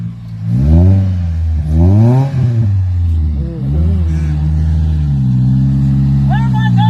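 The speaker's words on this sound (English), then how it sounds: "I think there's a car coming." A car passes close by, its engine rising and falling in pitch as it approaches, revs and goes past, loud and near, with people talking and shouting over it.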